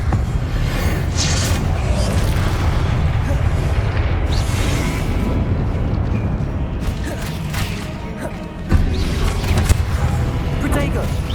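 A Confringo fire spell explodes in Hogwarts Legacy on PS5, with booming blasts and creaking, mechanical battle noise. A voice speaks over the dense, continuous din.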